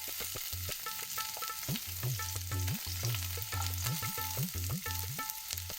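Onion pieces frying in hot oil for white sauce pasta, a steady broadband sizzle with low, repeated thumping bumps throughout. No one speaks.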